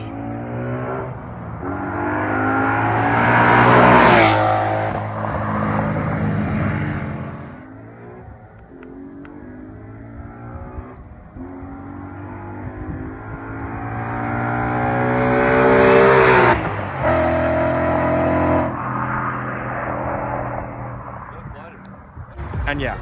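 A Nissan 350Z revs hard and drives by twice, each pass rising to a loud, close roar and fading away, with engine hum in between.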